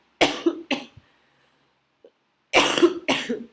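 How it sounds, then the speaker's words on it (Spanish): Two sharp coughs, a pause of near silence, then two more harsh coughs, loud and close. "el toser es una reacción natural de mi cuerpo"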